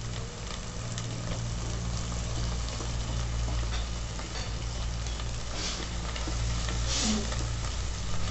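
Spice paste and onions frying in a pan for a pomfret fish curry, a loud continuous sizzle with scraping and stirring strokes throughout, close up and uninterrupted by voices.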